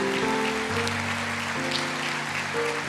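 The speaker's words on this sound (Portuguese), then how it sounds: "pode aplaudir ao Senhor." A church congregation applauds during a Sunday morning service, a dense steady wash of clapping under a sustained organ or keyboard chord that shifts a few times, with no voice on top.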